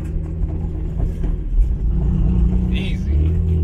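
BMW E36 sedan driving on the road, its engine rumbling steadily and close with small rises in revs as gears change; a voice speaks over it throughout.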